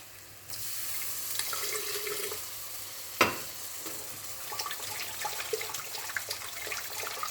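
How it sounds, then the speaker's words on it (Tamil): Water is poured into a blender jar while a fish curry cooks: a steady splashing trickle that runs for several seconds with a faint clatter in the middle, fairly quiet and without speech. "பிளெண்டரில் கொஞ்சம் தண்ணி ஊற்றிக்கலாம்."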